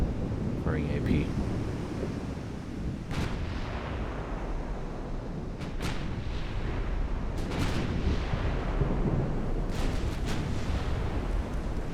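Naval guns fire armour-piercing shells in the naval warfare game Ultimate Admiral Dreadnoughts, during a battle in rough weather. Repeated deep booming salvos roll over a constant rumble of wind and sea, with sharp reports at irregular intervals.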